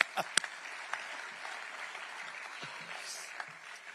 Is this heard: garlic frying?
no